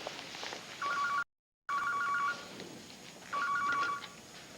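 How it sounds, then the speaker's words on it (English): A telephone rings in two bursts of electronic trilling bell tones separated by a pause, moderately loud indoors with a quiet room background. "Why don't you answer the phone?"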